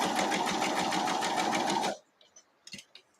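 A sewing machine stitches quilt block fabric, a loud, steady, fast mechanical whir close by that runs for about two seconds and stops abruptly, followed by faint handling clicks.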